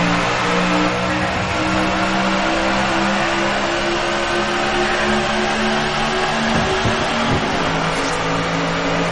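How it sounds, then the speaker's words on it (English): Stock cars thunder around the 2.5-mile Daytona speedway in a race start, a dense, sustained engine roar with revving and passing cars throughout, loud and continuous with no speech. "The green flag is waving in the Super Bowl of stock car racing"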